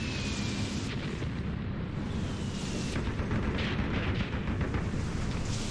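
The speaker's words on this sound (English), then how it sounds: "Some secondary explosions" Disabled vehicles cook off in secondary explosions during a Graviteam Tactics Mius Front hill defense skirmish, a dense, continuous roar of rumbling blasts and crackling bursts that stays loud and unbroken throughout.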